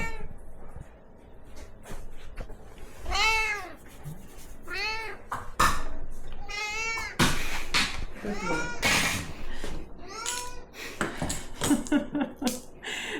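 A cat yowls loudly and repeatedly indoors, long wavering cries coming in a series over about thirteen seconds, near and insistent, with people talking in between.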